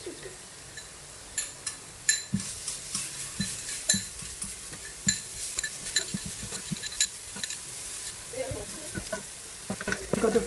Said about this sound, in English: You got to fry until the ingredients are fragrant.